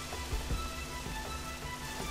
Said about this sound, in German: Und es regnet schon wieder.